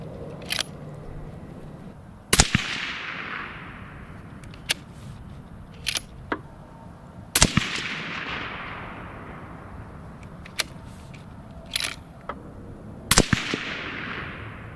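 A Mossberg Patriot Predator rifle firing Hornady 140 grain loads, several sharp loud shots spaced a few seconds apart, each trailing off in an echoing outdoor decay, with quieter clicks and handling noises between them.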